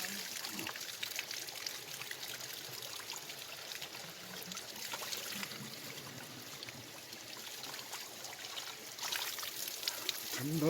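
Cold water pours and trickles steadily along a ghat path in the Uttarakhand hills of Pauri Garhwal, a continuous broadband rush that stays fairly even throughout with faint background activity.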